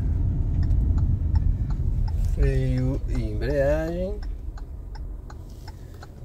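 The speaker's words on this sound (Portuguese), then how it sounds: "E a gente vai à direita, então seta à direita." Turn signal ticking inside a car during a driving-school lesson, a steady soft tick running under a voice speaking Portuguese over low engine hum.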